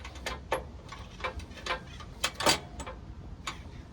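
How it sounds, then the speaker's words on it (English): A 19mm open-end wrench working a nut in a tight space while fitting a tube-style offroad bumper on a 2021 Toyota Tundra, a series of close, irregular metallic ticks and clicks. "We'll use a 19mm wrench on the nut"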